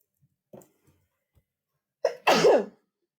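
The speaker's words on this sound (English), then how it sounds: "I'm about to sneeze again." A single loud sneeze after a brief sharp inhale, close and alone, with a few faint clicks and breaths before it.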